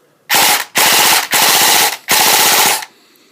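Airsoft Colt M4 CQB rifle firing four full-auto bursts, each rapid loud mechanical rattle lasting about half a second to three-quarters of a second, close up with short gaps between them and no talk.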